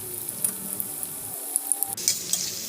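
Tofu and vegetable pastel pastries frying in hot oil over medium heat, a steady close sizzle with faint crackles and light clinks of a utensil.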